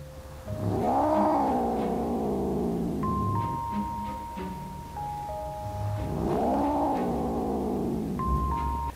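A cat yowls in long, drawn-out wailing cries, two rising-and-falling howls close to the microphone, with quieter pauses between them and some faint tonal sounds in the background.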